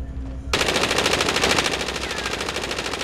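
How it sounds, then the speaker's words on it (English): Continuous rapid machine gun fire in a Call of Duty multiplayer match, bursting in loud and close after a brief quiet moment and rattling steadily to the end. "at least give you some covering fire"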